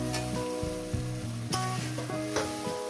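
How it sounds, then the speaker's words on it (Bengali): Chopped tomato frying in a spice paste in a hot pan for a fish curry gives a steady close sizzle with stirring, under a sustained tonal background layer. "এবার এটাকে মিনিট 3 ধরে, 3-4 ধরে ভেজে নেব। কষিয়ে নেব, ভেজে নেব, কষিয়ে নেব।"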